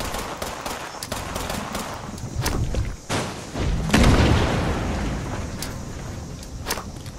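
Frag grenade explosions and gunfire in the video game Fallout 76, a dense, continuous barrage of booms and shots with heavier blasts near the middle, loud and without talk.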